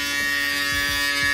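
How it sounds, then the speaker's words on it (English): A Profoil electric foil shaver runs during a taper haircut, a steady close mechanical buzz with a strong hum, alone and unbroken throughout. "to finish it all off, I like to use my Profoil shaver."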